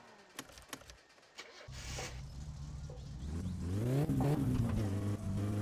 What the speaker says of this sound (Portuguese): acho que agora foi pro brejo o motor de arranque